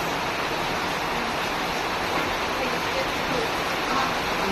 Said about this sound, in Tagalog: Umulan ulit guys.